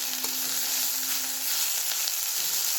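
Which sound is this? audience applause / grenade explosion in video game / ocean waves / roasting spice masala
roasting spice masala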